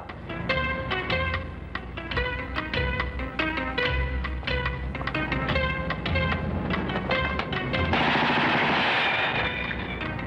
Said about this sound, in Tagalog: May putukan.